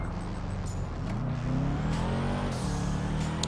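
In the GTA 5 game, a Nissan GTR engine revs and accelerates, its pitch climbing steadily through the gears as a loud, continuous roar with no talking.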